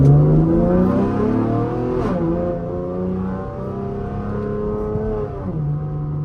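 Steady, droning engine note from a V6 fifth-generation Camaro with a muffler delete, heard from inside while cruising, holding an even rumble with slight shifts in pitch and no talking.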